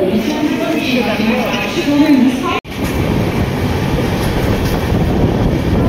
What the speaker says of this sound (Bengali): নাগপুর থেকে ছেড়ে চলে যাচ্ছে ট্রেন।